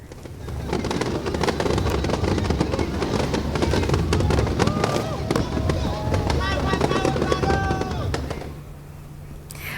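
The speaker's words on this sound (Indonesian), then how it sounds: "Ada pula pesta kembang api yang menghibur masyarakat." Dense crackling bursts of New Year's Eve 2025 fireworks at Bundaran HI, Jakarta, over a noisy crowd, with whistling streaks rising midway before the din drops away near the end.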